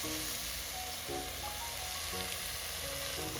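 Fried prawns, onion and green chilli are stirred through masala in a pan for prawn moju, giving a steady, continuous sizzle with faint scraping and no talk.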